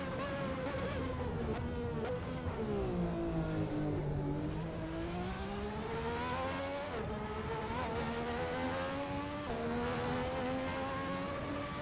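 A video game race car engine whines at high pitch, rising and falling through gear shifts, steady and continuous, with no talking.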